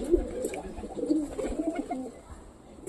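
Pet pigeons coo softly and repeatedly at close range in a low, rolling murmur, with faint background rustling and no talking.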